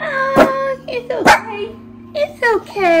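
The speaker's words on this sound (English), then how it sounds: "That's my dog." A dog barks loudly a few times nearby, with someone speaking softly in between and a baby fussing.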